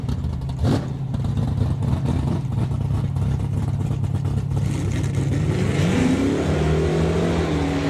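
A Mazda RX-7 drag car running a small-block Chevy V8 launches hard off the line at the strip, a loud sustained engine roar with a rising pitch as it pulls away, amid race-track ambience.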